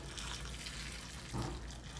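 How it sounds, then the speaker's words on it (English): Hot water from the stove splashes and pours over rinsed raw chicken wings for Haitian-style wings, a close, steady liquid rush with a brief louder splash midway. "And now I have some hot water on the stove that I'm going to pour on it."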